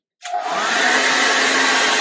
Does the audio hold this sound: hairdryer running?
yes